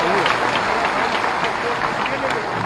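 Audience applause for the chief minister at a public stage event, a dense continuous wash of clapping from a large crowd, steady and loud throughout without a break.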